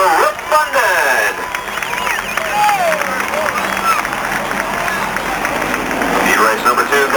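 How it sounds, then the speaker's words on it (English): Crowd clapping and cheering at Flat Rock Speedway during a 1992 ARCA Legends race night, a moderate, continuous applause swell under an announcer's amplified talk. "Nice round of applause for Rick London."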